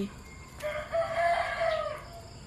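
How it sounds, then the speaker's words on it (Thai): A rooster crows once, a clear drawn-out cock-a-doodle-doo rising and falling, fairly close and loud over quiet background. "ฟังเสียงไก่"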